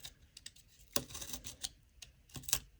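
Corrugated cardboard being cut and a cut piece popped free, heard as a handful of sharp, close papery snaps and crackles in a short irregular burst, with two louder pops standing out.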